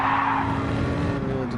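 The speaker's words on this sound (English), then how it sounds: "Let off a bit of the throttle here. Make sure we brake." A GT3 or GT4 race car brakes hard in Gran Turismo 7, giving a loud, steady tire squeal and skid over a droning engine tone that fades slightly near the end.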